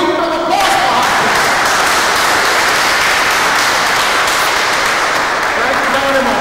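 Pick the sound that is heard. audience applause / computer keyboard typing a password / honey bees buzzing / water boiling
audience applause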